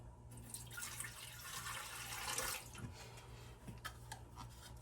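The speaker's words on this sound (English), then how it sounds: "So 1 cup of lukewarm water, just pour it straight in." Lukewarm water poured into a mixing bowl for homemade bread dough, a steady splashing pour running for a couple of seconds up close before fading into softer trickles and drips.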